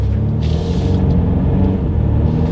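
A 2022 Mercedes-Benz GLC 300 Coupe pulls away from a standstill in Sport Plus mode, with a loud steady engine rumble and cabin drone heard from inside, plus a brief higher whoosh early on.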